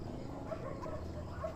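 Dogs bark and yip faintly in the distance at night in a Philippine neighborhood, over a steady low background hum, with no talking.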